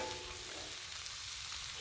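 Butter and cabbage sizzle on a Blackstone griddle, a soft, continuous frying hiss heard up close with no voices.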